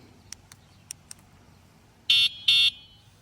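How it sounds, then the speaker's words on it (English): A few faint clicks, then two short loud electronic horn beeps from an electric scooter in quick succession, sharp and near. "It's got a nice loud horn."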